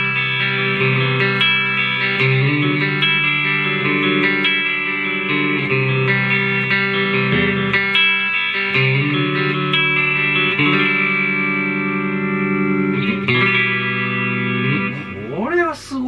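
Electric guitar played through a Positive Grid Spark MINI amp with reverb, sustained distorted chords and notes ringing with a spacious echoing tail, loud and continuous, ending in a rising bent note.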